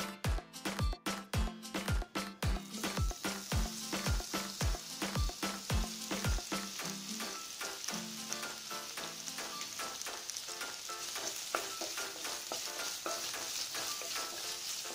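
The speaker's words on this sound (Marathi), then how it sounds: "आता आपण जो स्लाइस अनियन केलेला आहे त्यातला थोडा कांदा गार्निशिंगसाठी फ्राय करून घेऊया" Sliced onions fry in hot oil on medium heat as a biryani garnish, starting with a run of sharp stirring clacks against the pan that give way to a steady, close sizzle with occasional spoon taps.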